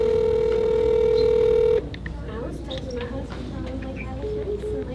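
A telephone call is being placed, with a steady dial tone cutting off after about two seconds, followed by faint clicks and quiet line noise.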